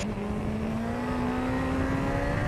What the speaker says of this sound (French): Je rétrograde pour être bien dans les tours à la sortie.